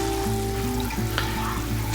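Tomato gravy bubbling and sizzling in a pan over medium-high heat while being stirred, a steady close frying hiss with small pops and the scrape of the spoon, no talking.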